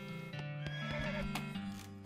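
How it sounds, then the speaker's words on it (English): A horse in West of Loathing gives a long, loud neigh in the game, with quick hoof clops and a steady musical drone underneath. "Are you sure you want to name your horse Tim?"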